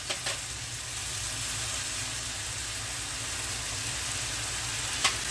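Ground coriander and cumin fry in a pan of oil while paneer is prepared, a soft continuous sizzle with a tap at the start and another near the end.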